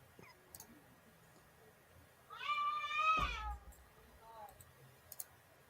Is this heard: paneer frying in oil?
no